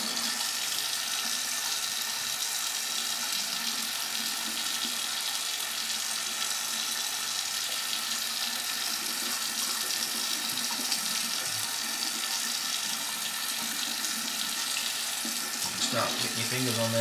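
Tap water pours steadily while a printed circuit board is rinsed under it, a continuous close splashing hiss with slight variation as the board is rubbed, and faint talking at times.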